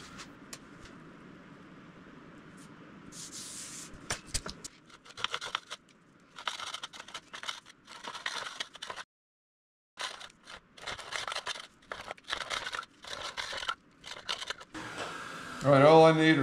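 A carbon fiber strip being cut to width with tape applied to prevent fraying, heard as a series of short crisp snipping and crunching bursts, close and fairly quiet, with brief pauses between cuts.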